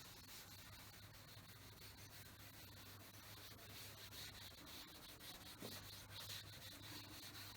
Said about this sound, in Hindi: इसे मैं रब कर देता हूं पूरा का पूरा।